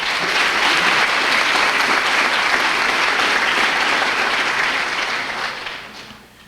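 A university address audience applauds steadily and fairly loudly for several seconds, the clapping fading out toward the end.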